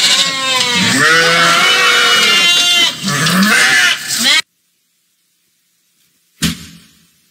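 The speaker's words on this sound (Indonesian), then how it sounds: "Itu suara kambing bro, bukan domba." A goat bleats loudly and at length, a wavering, quavering cry lasting several seconds up close, then silence before a short, abrupt burst of sound.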